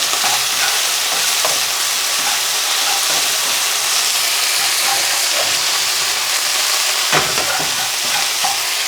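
Beef sizzles and caramelizes in a hot wok, a dense, constant crackle of frying punctuated by scraping stirs and occasional spatula knocks, loud and close with no one talking.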